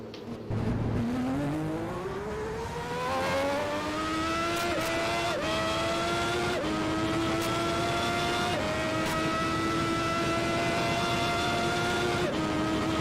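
Formula One cars of the 1991 season race around the German Grand Prix circuit in a racing game, a dense pack of engines droning and rising in pitch as they accelerate, with sharp shifts and overlapping whines, loud and continuous.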